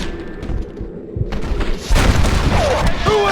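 Gunfire in the Red Dead Redemption video game, a burst of booming shots and thuds over a low rumbling battle bed, getting louder and denser toward the end.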